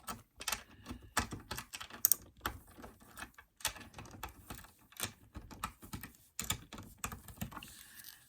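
Socket loosening the old nuts on a guitar's tuners, a quick run of small, close metallic clicks and ticks, irregular and fairly faint, with short pauses between bursts.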